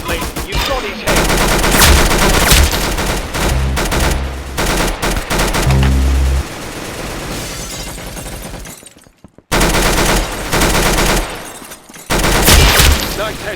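In the shooter game Arsenal, loud gunfire comes in dense bursts of rapid shots with heavy low thumps, stops for a moment, then resumes. No talk is heard over it.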